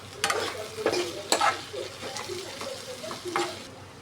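A spoon stirs onion and potato curry in a pan with soft scraping strokes over a low sizzle of frying. Several scrapes come close together, quiet and near, with no talking.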